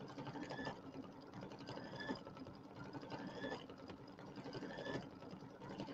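An embroidery machine stitches a pillow design in steady rapid mechanical bursts, a rhythmic whirring and clattering that repeats about every second and a half, fairly close and alone.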